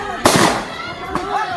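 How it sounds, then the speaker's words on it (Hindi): Two sharp pistol shots fired into the air by people hiding near a tree in a village, each a loud crack with a short ringing decay, roughly a second apart. "जिसमें कुछ लोग पिस्तौल से हवा में फायरिंग करते नजर आए।"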